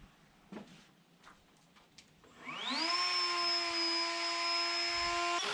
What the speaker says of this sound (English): the router I'm going to use to route the groove on the back of this for the wire